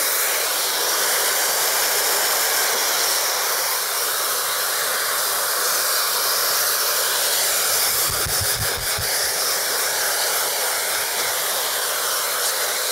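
A small, lightweight Gamma Hybrid hair dryer runs at full heat during a barbering session, giving a steady, loud, close airy whoosh for the whole stretch, with a few brief low thumps near the end.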